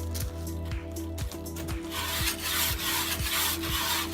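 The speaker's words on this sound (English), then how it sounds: "I'm wire brushing it." A wire brush scrubs the aluminium-clad wood of a 1967 Bailey vintage caravan under restoration, a steady rasping with repeated short strokes, close and continuous with no voices.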